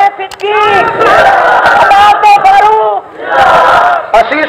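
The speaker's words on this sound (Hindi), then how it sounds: "तकबीर अल्लाह अकबर" A large crowd at a religious gathering answers a takbir call by shouting Allahu Akbar in loud, surging unison bursts, with a pause between waves of chanting.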